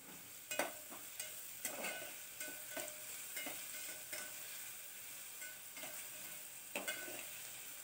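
Onion sautés in a pan for moong masala khichdi, a faint, quiet sizzle broken by regular spoon scrapes and stirring taps every second or so, with nobody speaking.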